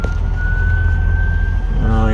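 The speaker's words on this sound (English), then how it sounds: "Oh, we got ambulance coming through town here." An ambulance siren passes through the small town of Tucumcari, New Mexico. A steady, high siren tone holds under heavy road rumble from inside a moving vehicle, then shifts into a wailing sweep near the end.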